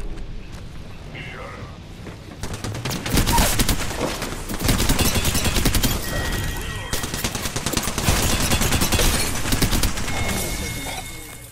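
Gunfire in a video game, rapid automatic bursts running almost continuously at close range, with players talking over the shooting.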